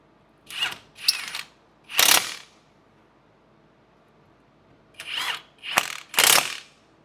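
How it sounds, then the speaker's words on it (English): An impact wrench snugs up the front brake bolts on a Jeep Renegade during a pad and rotor job. Six short, loud ratcheting bursts come close up in two groups of three, separated by a quiet pause. "Now I'm just going to snug these up with impact"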